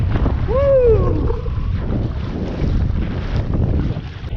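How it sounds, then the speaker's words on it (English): Strong wind buffets the microphone over open water on Diablo Lake in North Cascades National Park, a steady roaring rush with a brief whistling whine near the start. "It's getting really windy out here in open water."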